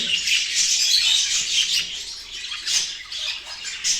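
Budgerigars and forpus parrotlets squawk and chatter nonstop, a dense, shrill flock sound, close and lively.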